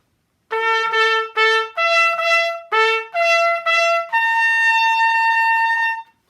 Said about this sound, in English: I have a metal version of that kind of trumpet